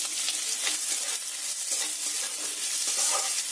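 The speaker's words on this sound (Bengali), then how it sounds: "তেলটা আমার গরম হয়ে গেছে। একটা তেজপাতাকে মাঝখান থেকে এমন ভাবে ফাটিয়ে দিয়ে দিলাম। আর যে পেঁয়াজ কুচিয়ে রেখেছিলাম সেটা ওতে দিয়ে দিলাম।" Chopped onion sizzles in hot mustard oil with a split bay leaf, a steady, close, dense frying hiss running without pause, with faint stirring scrapes now and then.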